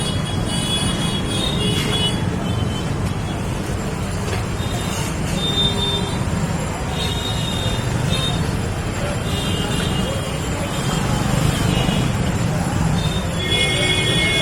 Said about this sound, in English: the school bus is coming by to drop people off